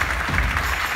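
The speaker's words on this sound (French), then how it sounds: "Vous l'applaudissez," An audience at an evening event applauds to welcome a speaker onstage, with a brief, dense and even burst of clapping from many hands.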